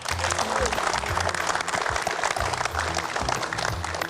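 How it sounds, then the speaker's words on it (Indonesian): An audience at an Indonesian gathering gives sustained, moderately loud applause that keeps an even level of dense clapping throughout, with no voices standing out. "Tepuk tangan dong buat semangatnya."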